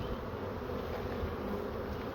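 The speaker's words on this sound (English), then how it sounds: "So many bees." Dense, steady buzzing of many honeybees around an open hive during hive management, continuous and close with no talk.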